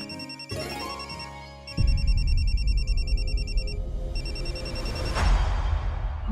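A telephone rings with repeated electronic trills in short bursts, loud and close, over a low background hum with a brief pause between rings and no talk.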